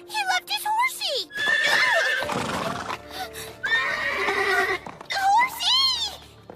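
Horse neighing and whinnying in several bursts amid animated voices and other background sounds, close and fairly loud.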